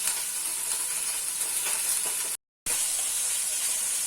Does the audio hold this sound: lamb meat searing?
yes